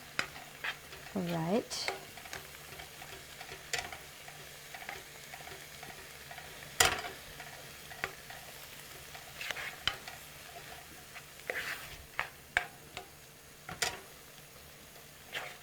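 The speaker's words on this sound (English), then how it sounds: "Let's saute this for a couple more minutes" Bean dip sautés in a pan on a home stove with faint sizzling, broken by scattered scrapes and taps of a utensil stirring against the pan, and a brief word spoken quietly.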